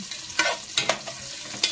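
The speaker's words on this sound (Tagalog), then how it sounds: "Gigisa muna natin ng ating mga ricado, lalo-lalo na unang-una na yung ating luya" Ginger and garlic sauté in a pan for beef skin with libas leaves, a close crackling sizzle punctuated by several sharp spatula scrapes and stirs over about two seconds, with no voices.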